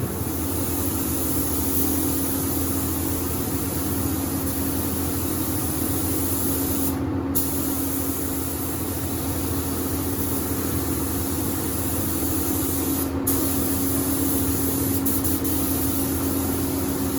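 An Anest Iwata W400 LV4 spray gun running at 29 PSI gives a loud, continuous airy hiss of paint spraying, close and steady, broken by two brief pauses.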